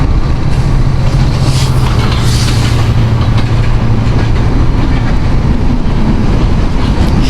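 Train passing near Shahgola railway station beside a marshy canal, a loud continuous rumble of wheels and carriages with a low droning hum, very close and steady for several seconds.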